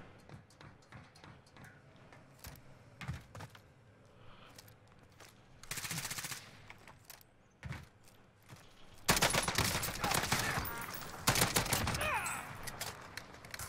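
Call of Duty Warzone gunfire: scattered single shots and short bursts at first, then loud, sustained automatic fire crackling close by in the second half.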